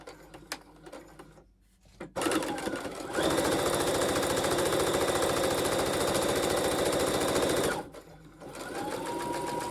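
A sewing machine stitches Christmas fabric cones, starting with a short burst, pausing, then running in a long loud steady whir for several seconds before stopping and starting again, close by.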